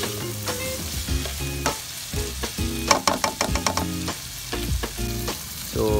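Rice stir-fried with garlic and onion in a pan, a steady sizzle broken by sharp spatula scrapes and taps in an uneven rhythm, close and fairly loud, with a melodic background running underneath.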